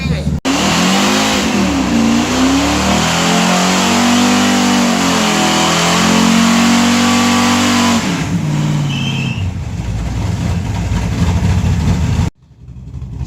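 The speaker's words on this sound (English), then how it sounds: "my burnout was a three-gear burnout, or in third" A Chevrolet S10 pickup truck does a burnout in third gear, its engine roaring loud and close while the revs climb and hold, then fall away before a brief cutoff. A voice speaks faintly underneath.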